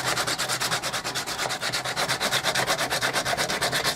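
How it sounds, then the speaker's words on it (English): Rough sandpaper rubs back and forth over the wooden roof of a bird table in quick, even strokes, a loud rhythmic scratching that runs continuously with no talk. "take a piece of sandpaper. This nice rough stuff will do."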